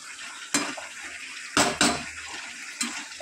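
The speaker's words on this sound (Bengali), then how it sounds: "এইবারে ভালো করে নেড়ে চেড়ে দিয়েছি, এবার আমি ঢেকে দেব" A metal spoon stirs a cooking pot, or kadai, of simmering food, then a lid goes on. The clip holds a few close, sharp metallic clanks and scrapes over a soft bubbling hiss, with no talking.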